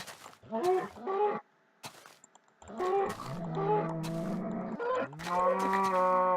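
Cows mooing in the video game Minecraft, alpha version 1.1.2_01, several drawn-out low moos in succession, loud and close, with no talking.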